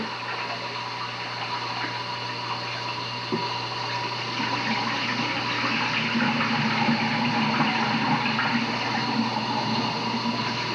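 Soaked rice washed under steady running water, a continuous close rushing stream of tap water with sloshing as grains are swirled, loud and unbroken throughout with no talk.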